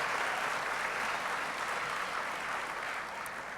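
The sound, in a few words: graduation audience applauding the school staff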